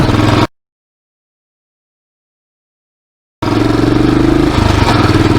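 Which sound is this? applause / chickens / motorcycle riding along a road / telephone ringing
motorcycle riding along a road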